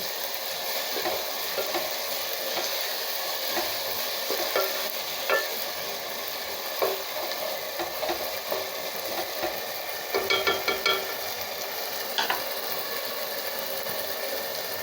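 Tomatoes and onions sauté in a pan for mushroom biryani, a steady soft sizzle with scattered scraping stirs and a few sharper clinks of a spoon, moderately close and without talk.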